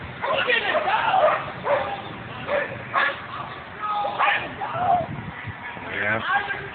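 A dog barks and yips during a heated neighbor dispute, several sharp, fairly close barks mixed with whimpering, under and between agitated shouting voices.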